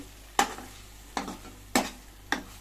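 A spoon stirs tomato curry in a frying pan, four distinct scraping strokes spaced roughly half a second apart over a faint steady sizzle, close and clear with no talking.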